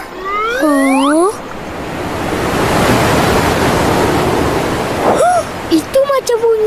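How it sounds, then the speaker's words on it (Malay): A waterfall roars as a steady broadband rush of falling water, swelling in and holding loud for several seconds, with high whistling tones before it and bird-like chirps and voices breaking in near the end. "Itu macam bunyi air terjun."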